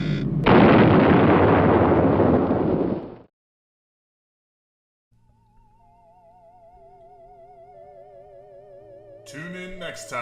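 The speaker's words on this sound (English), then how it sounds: "Self-destruct initiated, commencing atomic explosion." A heavy roaring blast fills the first three seconds of a space-explorer story's self-destruct scene, cuts to silence, then gives way to wavering electronic tones and a final synthetic flourish.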